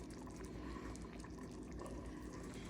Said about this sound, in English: It's getting too much bubbling going on.